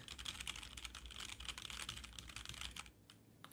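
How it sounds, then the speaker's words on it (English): Quick, quiet clatter of keys on a computer keyboard, tapped out as nonsense during a live stream in LA. The clicks come in rapid bursts and fade out near the end, with no talk. "He's just typing in nonsense and like moving the mic."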